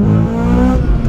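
The VTEC engine of a Honda Civic EK9 Type R howls loud and close under acceleration. A steady high-pitched drone drops briefly at a gear change, then carries on.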